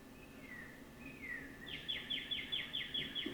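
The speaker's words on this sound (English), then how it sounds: "These birds though, I always wonder what they're saying to one another." Birds outdoors give a faint, rising chirp followed by a quick run of about eight evenly spaced high tweets, soft and distant.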